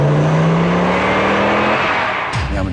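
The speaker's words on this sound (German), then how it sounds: "Wir haben einen Benziner, wir haben Laut, wir haben Power, wir haben Drehzahl und wir haben Krach." A petrol engine in an ABT-tuned Audi revs up with a steady rising drone, loud and close, then drops away sharply as the revs fall.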